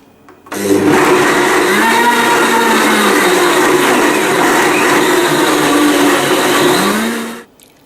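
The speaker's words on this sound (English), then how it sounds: "Just blend this on high for 20 to 30 seconds." A blender runs on high, loud and steady for about seven seconds, whirring through a smoothie of lemon juice and honey, and then stops.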